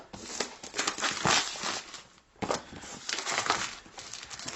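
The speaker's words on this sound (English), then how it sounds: "first thing we need to do is cut the plastic along the back" Plastic wrap on a 2015 13-inch Retina MacBook Pro box being cut and peeled, giving loud, close crinkling and tearing rustles in two long bursts with a brief pause between.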